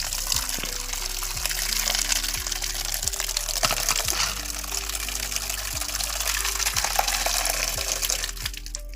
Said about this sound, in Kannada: ತಣ್ಣೀರಿಂದ ಮತ್ತೊಮ್ಮೆ ಈ ರೀತಿ ಚೆನ್ನಾಗಿ ತೊಳಿಬೇಕಾಗುತ್ತೆ.